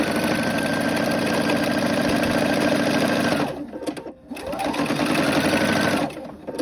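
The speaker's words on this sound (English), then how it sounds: "I'm going to turn again with my needle down, and I'm going to sew again" A sewing machine stitches a strap in a loud, steady whir close by. It pauses briefly partway through while the needle stays down for a turn, then it sews again.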